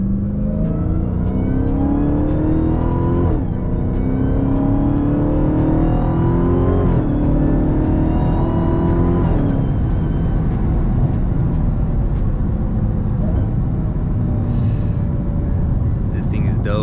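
A 2020 Dodge Charger Hellcat Widebody, supercharged, revving loudly from inside the cabin, with the engine note climbing through several gears over a deep rumble. A voice speaks over it.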